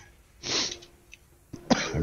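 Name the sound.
coughing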